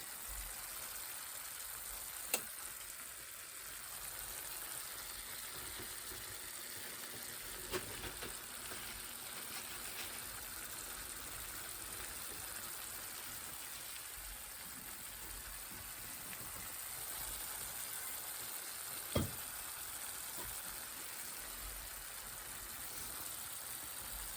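Stuffed portobello mushroom, filled with garden potato, sizzling steadily in a frying pan, a low continuous hiss with a few faint clicks and no talk.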